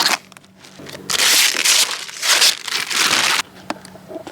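Protective plastic film being peeled and handled on a folding solar panel for a portable solar generator, giving loud bursts of crinkling and crackling plastic with brief pauses between handling strokes, close up with no talking.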